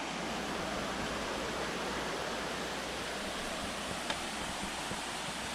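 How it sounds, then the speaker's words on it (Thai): A mountain waterfall in the hills of Kanchanaburi gives a steady, dense broadband rush of falling water, even and continuous throughout with no voices over it. "น้ำตกสวยด้วย"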